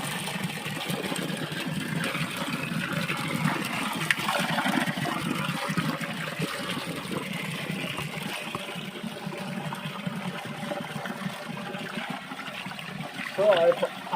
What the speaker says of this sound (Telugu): సో ఆ పైపు నుంచి నీళ్ళు అయితే వచ్చి ఇక్కడ నుంచి ఇలా పాస్ అయ్యి డైరెక్ట్గా నంది నోట్ల నుంచి అయితే వస్తుంది.